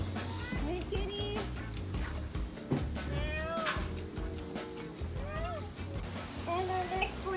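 A cat meows repeatedly on a sailboat being fiberglassed, with several drawn-out, rising and falling cries over a loud, steady background of wind and engine-like rumble.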